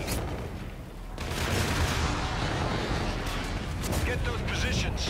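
Gunfire from an aircraft gun run in the D-AT video game, a dense, continuous roar of shots and blasts that swells after the first second and stays loud, with voices in the mix.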